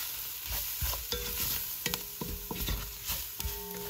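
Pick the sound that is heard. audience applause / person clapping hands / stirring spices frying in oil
stirring spices frying in oil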